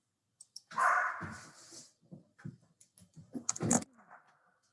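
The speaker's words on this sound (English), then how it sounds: "when she gets tired of barking, she'll come and she starts scratching the door" A pet dog barks behind a closed door in a home, a few muffled yaps and a louder burst of barking, set back and softened by the door, with sporadic small knocks and shuffling.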